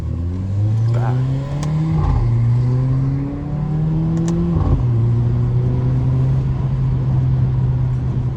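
A loud Mercedes CLA 45 AMG revs and accelerates, its engine pitch rising in steady pulls with brief drops between gears. The engine is close and continuous, with faint voices in the background.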